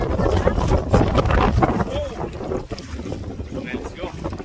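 Strong gusting wind by a river buffeting the microphone, a loud continuous roar with rushing river water beneath it.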